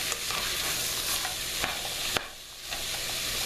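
Onions with sea salt saute in a pan for spaghetti bolognese sauce, giving a continuous soft sizzle broken by a few light scrapes and taps from stirring.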